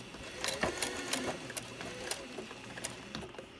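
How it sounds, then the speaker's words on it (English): A sewing machine runs a straight seam with a quiet, steady mechanical whir punctuated by soft rhythmic clicks and brief stops, heard close and alone. "we're going to start stitching our straight seam at these two red pins"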